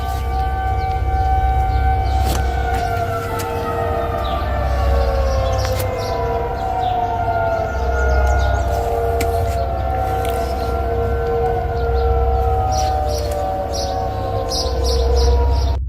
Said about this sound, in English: His neighborhood by the woods is filled with the sounds of sirens on his block